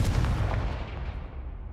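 A Confringo fire spell bursts in Hogwarts Legacy as a single heavy, booming blast that rumbles and fades over about a second and a half.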